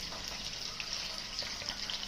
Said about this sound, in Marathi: आता आपण थोडंसं फ्राय करून घेऊया